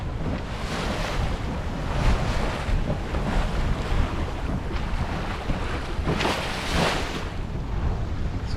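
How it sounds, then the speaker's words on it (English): Choppy sea waves slap and surge around a small 20-foot sailing boat out on open water on a sunny day, a steady loud wash with wind buffeting the microphone and brief splashy swells, no voices. "the waves have got very choppy all of a sudden"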